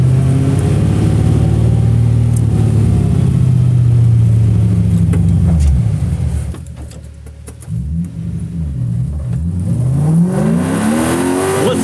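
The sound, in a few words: 1UZ V8-swapped Toyota Corolla AE86 engine revving on track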